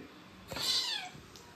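A single cat meow, rising then falling, close by against a quiet background.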